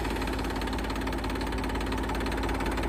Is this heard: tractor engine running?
yes